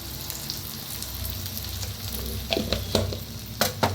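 Okra tossed into a pan of roasted seasoning, frying with a steady close sizzle over a low hum, then a few sharp stirring scrapes in the last seconds.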